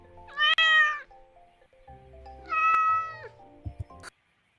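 A cat in the MyStreet video game meows twice, loud drawn-out calls with a gap between them, followed by a few soft thumps, then silence.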